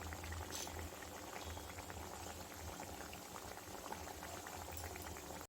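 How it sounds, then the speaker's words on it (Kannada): Wheat flour biscuits deep fry in hot oil on a medium flame, producing a continuous bubbling, crackling fizz that stays even and close throughout, fairly faint and without talking. "ಬಿಸ್ಕೆಟ್ನ ಒಂದೊಂದೇ ಎಣ್ಣೆ ಒಳಗಡೆ ಸೇರಿಸ್ಕೊಳ್ಳೋಣ."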